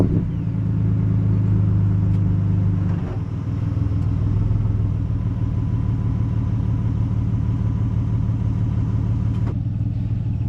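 A pickup truck engine idles steadily up close, a low continuous rumble with a brief dip in tone near three seconds before settling back into an even drone.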